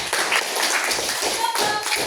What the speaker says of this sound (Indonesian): kita beri aplaus dulu buat kelompok bola